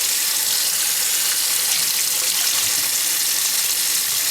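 Tap water runs steadily into a sink, rinsing hand-dyed wool roving in cool water, a close, constant broadband rush with no pauses.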